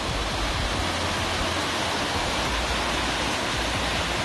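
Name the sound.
waterfall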